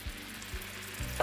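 Cream hits hot caramel sauce with melting butter, giving a soft steady sizzle with faint low bubbling pops, close and even, with no voices.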